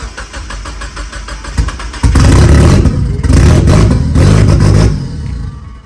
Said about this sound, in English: first start on the Miata after a month of turbocharging this thing